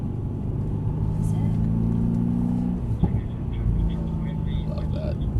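A Mercedes C63 AMG sedan engine on a wet race track holds a steady, throaty drone that shifts pitch partway through as the throttle changes, then settles into a lower rumble under cabin noise.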